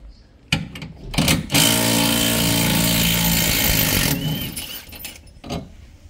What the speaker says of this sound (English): 24mm socket on a half-inch impact driver